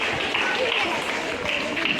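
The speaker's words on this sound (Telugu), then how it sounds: "క్లాప్స్ కొట్టండి" A high school audience gathered for a midday meal claps in a short, steady wash of applause, even and continuous, with voices faintly underneath.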